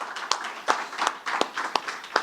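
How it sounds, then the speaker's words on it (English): Applause after a speech at a tobacco harm reduction event on South America, a small group clapping close by with sharp individual claps standing out from the steady patter. "I'd like us to give a warm round of applause to Kgosi in Mexico."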